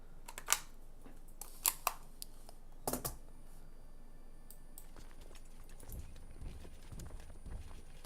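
Computer keyboard typing in bursts, a few sharp, close clicks spread unevenly over a quiet room background, with no talking.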